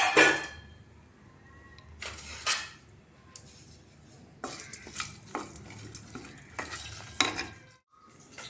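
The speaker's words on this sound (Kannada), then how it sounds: "ಇದು ಸ್ವಲ್ಪ ಚಟಪಟ ಅಂತ ಸಿಡಿಲಿ." Whole pulao spices dropped into hot ghee and oil, giving scattered crackles and spluttering bursts with spoon stirring and pan clatter, close by, in uneven clusters across several seconds.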